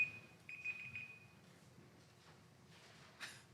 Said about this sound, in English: That wasn't your timer, right?